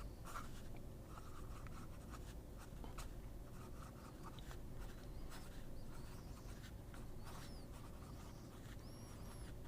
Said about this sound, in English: Now with this stub, the flow is much better, a lot smoother, and the flow of the writing is definitely there.